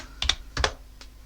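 Keys tapped on a computer keyboard while a password is entered during a Mageia Linux install: two short bursts of quick, close clicks, then a single faint tap, with no talking.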